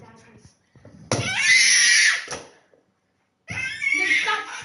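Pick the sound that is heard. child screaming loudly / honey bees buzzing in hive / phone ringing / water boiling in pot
child screaming loudly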